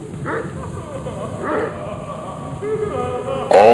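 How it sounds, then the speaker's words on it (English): Hellhounds in a video game's throne room give a few short barks and yips, with a brighter, louder bark at the very end over a steady game background. "Over here are my hellhounds. Yes, I like dogs."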